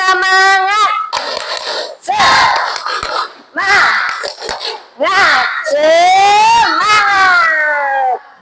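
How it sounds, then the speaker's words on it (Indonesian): A group of schoolchildren in a classroom loudly chant in unison and clap sharply in rhythm during the 'tepuk semangat' cheer, their voices rising and falling between claps. "kita tepuk semangat dulu"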